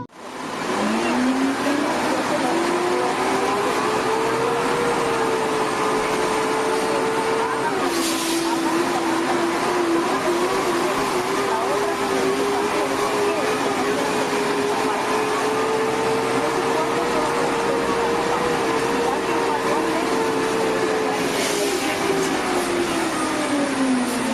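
Inside a 1995-96 Orion V city bus, an MTA Bus unit formerly run by Bee Line: a loud, continuous engine drone with a steady whine that rises and shifts pitch slightly as the bus moves, with no talking.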